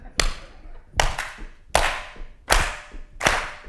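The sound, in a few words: audience clapping hands along to a song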